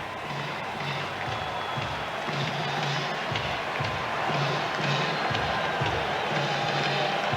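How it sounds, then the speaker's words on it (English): Stadium crowd at a night NFL game, Miami Dolphins at Jacksonville Jaguars in 1998, a steady loud roar of many voices with rhythmic surges of chanting, continuous across the whole stretch with no clear talk over it. "he can't hear enough noise out of this crowd"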